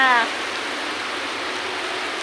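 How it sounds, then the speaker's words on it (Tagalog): Steady, dense heavy rain from a storm in Tagaytay hisses without a break, a close wash of falling water that keeps going after a brief voice at the very start. "napakalakas ng ulan"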